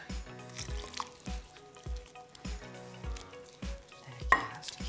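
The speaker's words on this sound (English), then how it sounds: "just using your fingers, just stir that together" Wet, thick potato batter for aloo tikki being mixed by hand with water in a bowl, producing soft squelching, dripping and gloopy sounds in an uneven rhythm, close up and moderately quiet, with no talk.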